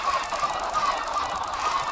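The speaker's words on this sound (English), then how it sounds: "the amount of chicken dying in these seconds" A dense, continuous flurry of squawking chicken cries as large numbers of chickens die at once in the video game Minecraft, loud and unbroken throughout.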